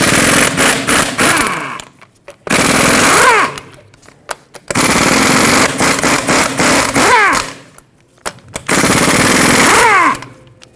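An impact wrench spins off the 21mm lug nuts on the wheel of a 2011-2016 Ford F-350 truck, firing four loud rattling bursts of a couple of seconds each, separated by short pauses, with no talking.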